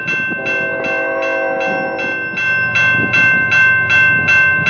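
A westbound CN freight train passes at the CN Tunnel in Port Huron, Michigan, loud and close. A sustained horn tone sounds first, then the regular rhythmic clatter of wagons rolling by.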